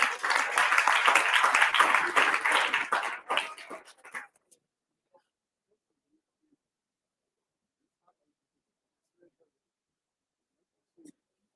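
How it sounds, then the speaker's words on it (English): Applause from an audience at a medical school ceremony marking a curriculum reform launch, a dense round of clapping lasting about four seconds before fading out into near silence. "Let's give a hand of applause."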